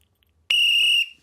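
A single sharp referee's whistle blast rings out to start play on a football pitch, a clear, loud, steady tone lasting about half a second, heard alone.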